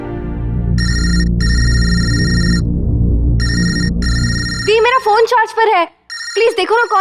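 A mobile phone ringtone rings loudly and close in repeated electronic bursts with short pauses between them, and a voice talks over the last couple of seconds.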